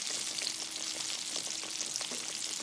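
A catfish fillet fries in a pan, giving a constant, close, crackling sizzle with scattered pops and no voices over it.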